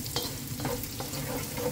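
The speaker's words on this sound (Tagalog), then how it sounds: "I-fry ko lang po yung carrots at saka yung tangkay ng" Carrots and broccoli stems stir-fried in a pan with garlic, a steady close sizzle broken by several scraping stirs of the utensil across the pan.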